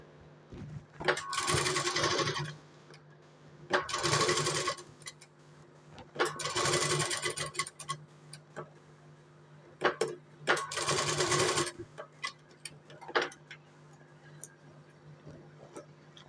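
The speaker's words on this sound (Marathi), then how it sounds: "अस्तर आणि कॅनव्हसवरती आपण शिलाई मारून घेऊया त्याचा सेप आहे त्याच्या अकॉर्डिंग शिलाई मारून घ्यायची" An electric sewing machine stitches blouse lining onto canvas in four bursts of rapid whirring needle runs, each a couple of seconds long, separated by pauses with soft clicks and handling of fabric.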